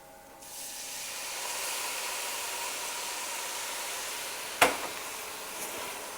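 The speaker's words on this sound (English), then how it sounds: "we're going to add our white wine" White wine poured onto rice in a hot pan gives a steady, even hiss of sizzling that carries on for several seconds, with one short sharp clink partway through and no talking.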